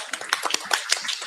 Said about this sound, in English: Can we get a round of applause for our new animal control?